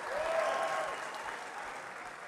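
Applause from a huge audience of over 6,000 at the SOLIDWORKS World 2019 general session in Dallas, Texas: dense, sustained clapping mixed with some cheering that peaks early and then eases slightly.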